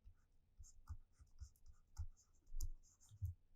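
Pen or pencil scratching out notes on paper during a physics lecture, a series of short strokes and taps close by, with no talking.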